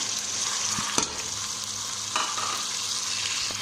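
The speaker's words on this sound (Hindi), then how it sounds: "अब इसमें हम टमाटर डाल लेते हैं" Steady sizzling of frying in a pan as tomatoes go into onion, ginger and garlic paste for potato lentil dal, with a couple of soft stirring knocks, close and continuous.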